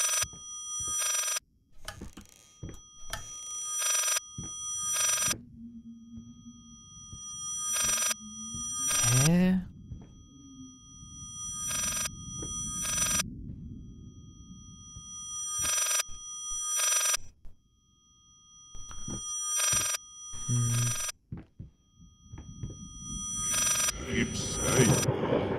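A telephone bell rings in the horror video game Layers of Fear, in short repeated metallic bursts over a dark, droning ambience, with someone talking in between.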